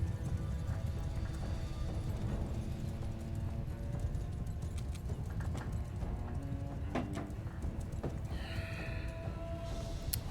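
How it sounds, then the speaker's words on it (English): Horses gallop in a medieval battle in Mount & Blade II Bannerlord, a dense, continuous clatter of hooves with an occasional neigh rising near the end, heard over a steady background roar of the fight. "Break apart and let the horses through."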